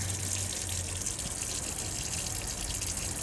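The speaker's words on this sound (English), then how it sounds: "the water comes through nice and clearly like that" Water runs steadily from a campervan tap fed by an electric pump, a continuous close hiss and gush with a faint low pump hum underneath, no voices.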